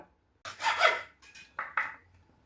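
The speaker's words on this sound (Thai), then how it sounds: "พอเราเลื่อยขัดออกได้แบบนี้แล้ว ทั้งสองอัน" A PVC pipe is sawn by hand: a long rasping stroke followed by several shorter, sharper strokes, close and fairly loud with pauses between.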